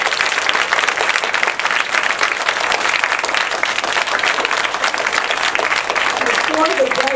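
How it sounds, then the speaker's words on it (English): Loud, dense clapping from a room of fourth-grade children applauding their teachers, sustained and crackling throughout with a few voices mixed in near the end. "Would you clap real loud for your teachers who are sitting around this?"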